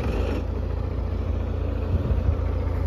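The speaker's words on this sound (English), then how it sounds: "It does have a working rear winch. He's going to show us the operation on that right now." A John Deere 650G bulldozer's rear winch runs outdoors, its steady diesel rumble droning low and continuous at close range with no voices.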